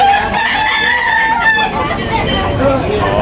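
Roosters crow close and loud at a busy fighting-cock market in Tabunok, Talisay, Cebu, with a long drawn-out call over the babble of people talking in the background.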